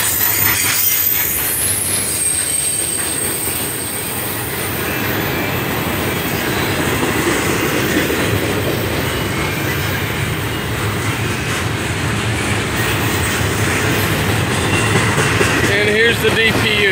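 A CSX eastbound freight train rolls past close by on a Saturday morning, a steady loud rumble of railcars with wheel squeal and clanking throughout, and a faint voice speaking over it.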